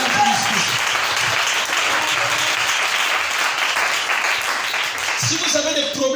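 A church congregation at a tabernacle service applauding in acclamation, with dense, steady clapping that holds for several seconds and voices mixed in.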